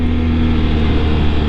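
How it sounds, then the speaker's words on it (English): A passing Aprilia V4 motorcycle engine, a loud, steady low roar with a strong rumbling drone that holds evenly through the brief moment. "Beautiful V4 Aprilia."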